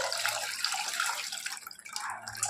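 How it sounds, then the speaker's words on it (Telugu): Squeezed tamarind juice is poured into a pot for pappu charu, making a continuous close splashing trickle that thins out briefly toward the end. "ఇదిగోండి రసం పోసేసుకోవాలి."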